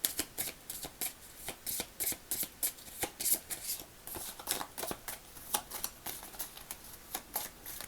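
Oracle cards are shuffled by hand close up in a quick, steady run of crisp riffling flicks and soft slaps, with no voices.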